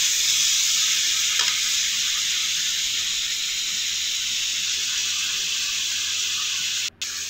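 Chicken with masala fries in a hot pan for chicken korma, a loud continuous sizzle and hiss with faint stirring, close and steady, broken by one brief scrape near the end.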